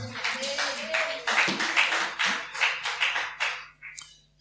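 A church congregation claps in praise of the Lord Jesus, a dense run of fairly close handclaps swelling and fading in several waves before tapering off near the end.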